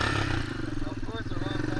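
A Honda Fourtrax 300 ATV engine runs steadily with a slight rise in revs, close and loud, with a rough mechanical clatter over the idle.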